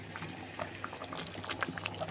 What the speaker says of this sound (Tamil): ஒரு 5 நிமிஷம் சிம்முலேயே கொதிக்கிட்டோம்.